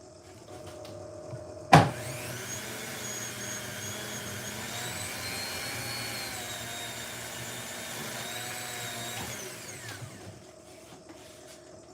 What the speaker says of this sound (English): I'm going to use my little Dremel tool.